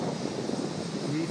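Strong wind buffets the microphone at a beach overlooking a surf contest, making a continuous loud rushing roar with no distinct events.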